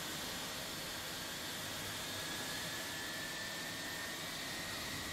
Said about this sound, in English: I think the engine's running. Yep, it sounds like it's starting outside.